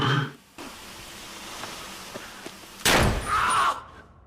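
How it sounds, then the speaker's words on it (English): A sudden loud blast cuts through a quiet room tone, followed by a brief ringing hiss, a gunshot in the film Taken. "You didn't want a gunshot."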